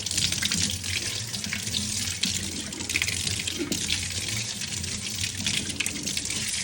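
Tap water running steadily into a kitchen sink while peanut chutney is being prepared, a continuous hissing gush from close by with no speech over it.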